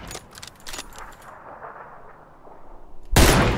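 Gunfire in the battle-royale game PUBG, played in first-person squad mode: a few sharp shots crack early on, followed by a quiet stretch and then a sudden loud, close burst at the end.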